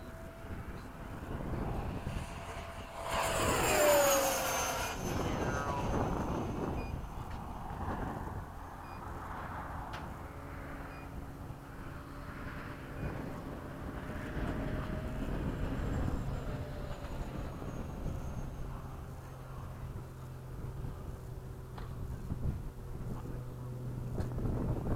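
An F-5 jet flies at high speed under cloudy skies after repairs, a continuous broad roar that peaks loudly early on and then holds as a steady rumble with wind buffeting the microphone throughout.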